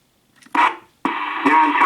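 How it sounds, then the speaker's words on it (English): Two bursts of CB radio transmission on channel 1 low band, the second longer, with a voice coming through a narrow, crackly channel over very little noise. "Channel 1 low band, and there's very little noise, as you can hear."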